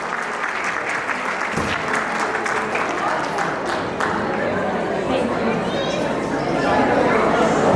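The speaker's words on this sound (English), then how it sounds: "give a huge round of applause to all the ladies" A large audience at a women's council event gives a sustained, loud round of applause for the ladies, with some chatter and crowd noise mixed in throughout.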